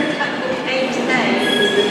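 Train passing at a busy Birmingham station, with a London Midland Class 390 Pendolino service to London Euston close by, giving a steady rumble, whine and squealing wheels that fill the whole stretch alongside station ambience.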